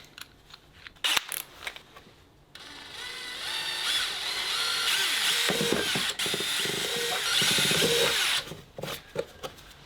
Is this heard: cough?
no